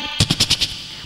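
A voice imitating cannon fire with a rapid burst of five explosive mouth sounds, close and loud over faint room hum.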